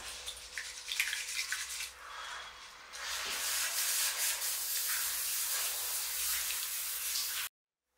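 Water swishes and trickles while moong dal lentils are rubbed and rinsed by hand, a steady close washing sound with no voices.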